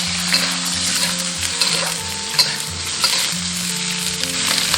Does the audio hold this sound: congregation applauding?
no